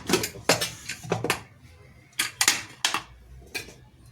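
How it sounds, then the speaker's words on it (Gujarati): A pressure cooker of eggplant curry is opened in a home kitchen, with a series of sharp, close metallic clanks and clatters in quick irregular bursts, and no talking. "કુકર ખોલી જોઉં છું"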